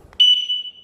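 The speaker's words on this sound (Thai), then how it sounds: "ล็อกมีเสียงนะครับ" A Demon GR-200R remote car alarm gives a single sharp, high electronic chirp when locking, close and clear, lasting under a second after a faint click.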